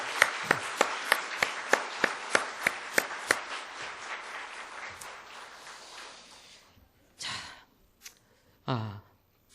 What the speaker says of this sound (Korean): 여러분 격려의 박수 한번 해주시기 바랍니다